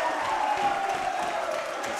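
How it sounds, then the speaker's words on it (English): Crowd roaring and cheering at a Super Smash Bros. Melee grand final match, a dense, steady wall of cheers and shouts filling the hall with no break. "Crowd going crazy."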